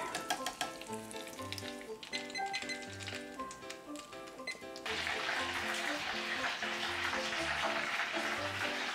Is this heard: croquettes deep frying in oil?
yes